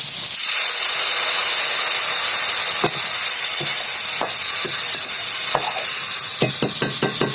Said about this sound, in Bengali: পরিমাণ মতন হলুদের গুঁড়া নাড়িয়ে চাড়িয়ে মিশিয়ে নিই আগে থেকে গুলিয়ে রাখা তেঁতুলটা দিয়ে দিই